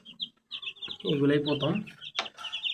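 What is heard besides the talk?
tiger breed chicks chirping in brooder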